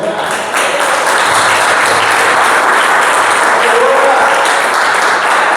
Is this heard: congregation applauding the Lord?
yes